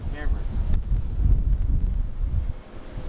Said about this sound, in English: So wind is changing up a little bit. It's going right to left now.